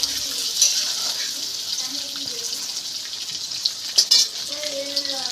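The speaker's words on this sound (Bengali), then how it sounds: "এবার আলুগুলো ভালো করে ভেজে নেব।" Potatoes frying in a pan for a Bengali prawn dish, a steady soft sizzle and hiss running throughout with a few brief clatters of stirring, moderately close.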